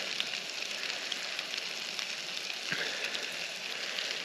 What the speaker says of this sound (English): we'll try to get a bit of a fry without them falling apart